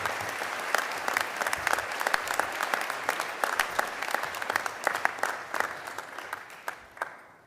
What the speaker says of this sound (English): Give them a clap, please.